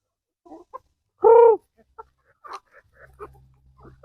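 Rhode Island Red and Black Australorp chickens on a farm give short clucks and one loud, drawn-out squawk, with scattered clucking after it.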